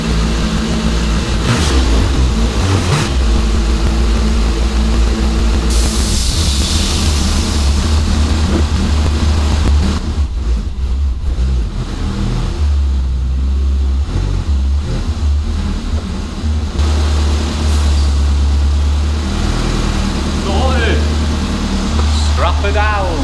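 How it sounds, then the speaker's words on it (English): A Renault car engine runs and revs on a DIY four-wheel-drive rolling road dyno in a shed, its loud low drone rising and falling throughout, with people talking over it. "Got the Renault out, I'm going to chuck it on now. Get it on the dyno and strap it down."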